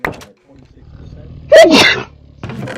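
A single loud sneeze bursts out suddenly amid quiet surroundings, standing apart clearly, with a person's voice speaking briefly before and after it.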